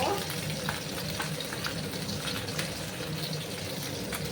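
Pabda fish fry in hot oil in a pan, giving a dense, loud, continuous sizzle with crackling pops scattered throughout, close up and unbroken.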